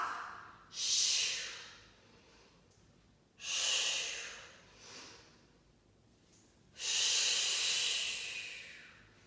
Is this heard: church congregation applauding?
no